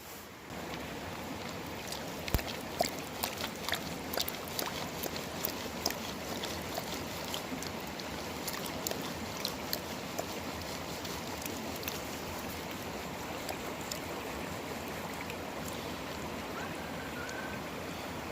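A gold pan swirls gossan gravel in water, giving a steady sloshing and trickling wash close by with small gritty knocks of gravel, continuous for the whole stretch with no voices.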